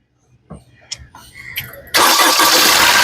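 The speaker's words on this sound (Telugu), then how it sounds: "సింగిల్ సెల్ఫ్ ఒక కార్ స్టార్ట్ అవుతుంది ఎటువంటి స్టార్టింగ్ ట్రబుల్ అయితే లేదండి" A 2018 Maruti Suzuki S-Cross ZETA catches on a single crank: a few short starter clicks and whirs, then the engine bursts into a loud, steady run close by.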